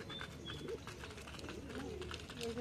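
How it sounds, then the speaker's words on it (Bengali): Pigeons gathered on a rooftop vegetable garden, feeding on scattered food, with soft cooing calls rising over a steady background hum. "এই যে আমার কবুতরগুলো সবগুলোই ছাড়া হয়েছে এবং ওরা কিন্তু এখানে খাবারগুলো খাচ্ছে"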